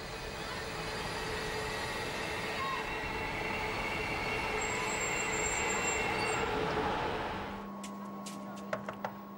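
An electric locomotive train at Wolgast harbour station rolls past with a loud, continuous rumble and a high whine, then drops away to a low idle hum as a few sharp metallic clanks ring out near the end.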